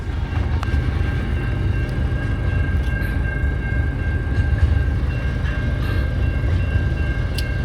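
A freight train near Broken Hill rumbles past at close range, a steady, heavy rolling roar with metallic squeals and faint clicks, and no voices over it.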